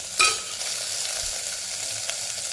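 Tomatoes sauté with onion and ginger-garlic paste in hot oil, a continuous close sizzle with a sharp scrape of stirring at the start and a few lighter strokes after.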